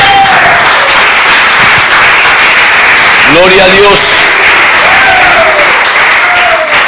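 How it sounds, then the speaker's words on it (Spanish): A church congregation claps loudly and steadily throughout, a dense sustained roar of hands with voices calling out over it. "Iglesia, dale un fuerte aplauso al Rey."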